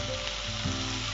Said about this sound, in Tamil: இப்போ இதில் முட்டையை உடைச்சி ஊற்றணும்.